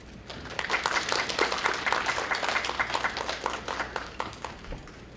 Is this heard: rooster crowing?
no